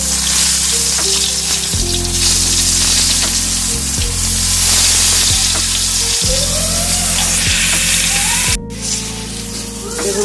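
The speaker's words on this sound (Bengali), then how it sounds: "এর মধ্যে আবার বেগুনটা ছেড়ে দেবো" Eggplant fries in a pan with a loud, continuous sizzle that stays dense and steady throughout, over a low repeating hum.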